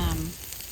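Shrimp and bacon fry together in a pan, a steady close sizzle with a brief low voice-like hum at the very start, then an even crackle through the rest of the short stretch.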